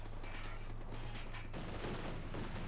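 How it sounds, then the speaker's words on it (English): Gunfire from the video game Company of Heroes 2, a dense, continuous fusillade of rifle and machine-gun shots heard during a match, with the clatter shifting and thickening partway through. "Poor Jeremy, it went down in a hail of bullets."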